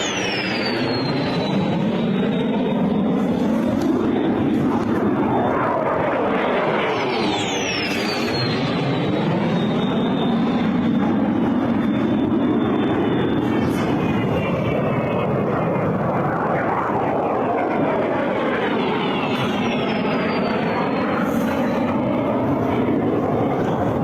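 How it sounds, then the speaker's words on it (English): Russian cruise missiles fly overhead, a loud continuous jet-engine roar whose pitch sweeps and shifts repeatedly as several pass by, with no voices. "these cruise missiles came burning in. As a matter of fact, they were captured in flight"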